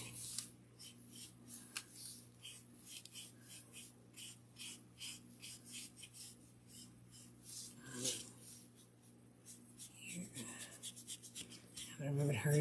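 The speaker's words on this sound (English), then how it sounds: "I'm gonna rub it harder to see how much more I can get off." Paint being rubbed hard off a wooden bat-shaped birdhouse insert, a steady close rasping and scrubbing with rhythmic strokes throughout, soft and continuous, with a low hum underneath.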